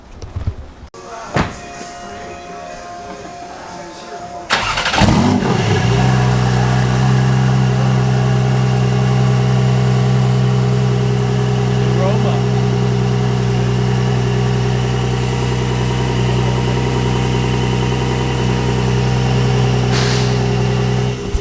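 A tuned Porsche 911 Turbo S with big turbos and a custom tune on pump gas starts on a dyno after a few clunks, then holds a loud, steady, droning engine run close by.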